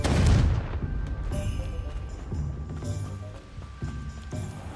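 A Confringo explosion spell goes off in the game SpiritVale, a heavy booming blast up front followed by a rumbling tail and scattered smaller impacts, loud and close.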